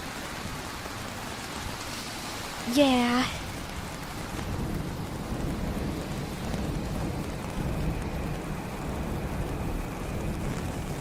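Steady rain falls outdoors around someone walking, a constant soft hiss through the whole stretch, with a short voice and a brief high chirping call early on.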